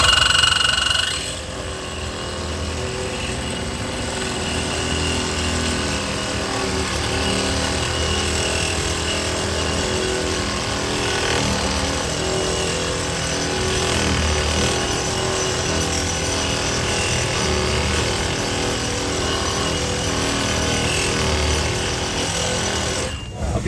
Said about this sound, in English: I have some 2-inch Schedule 40 stainless steel pipe. I'll use the Lennox competitor and we'll cut with that and see how it does.